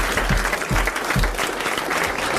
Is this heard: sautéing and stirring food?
no